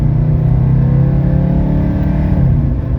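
A 1983 Mercedes 300CD diesel coupe accelerates hard from a standstill, its engine note droning and rising steadily through the gears in a loud, continuous in-cabin rumble.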